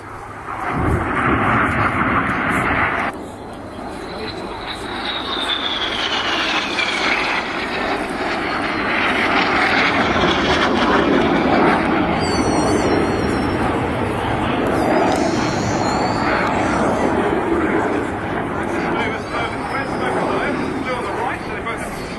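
Red Arrows jets roar overhead during an air display infinity break, a loud sustained engine rush that swells and fades as the formation splits. A commentator talks over the jet noise throughout.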